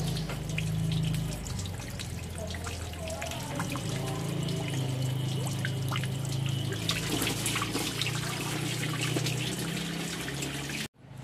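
Water runs and splashes while a car radiator is rinsed out, a continuous close trickling and gushing that stops abruptly at the end, with faint background sounds.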